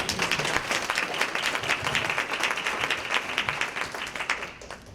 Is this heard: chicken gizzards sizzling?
no